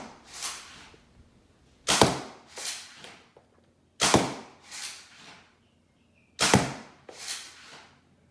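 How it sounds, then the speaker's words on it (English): A Worker Swift blaster with an 8-threaded scar fires green Dart Zone Pro darts. Four sharp, loud shots ring out, each followed by a couple of decaying thuds and clatters as the darts strike and drop. "This is firing the green Dart Zone Pro darts out of the worker Swift with an 8-threaded scar."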